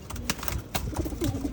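Pigeons close by during a free-flight session, with soft cooing and rustling over a dull outdoor background and a few sharp flaps or taps, all over a brief stretch with no talk.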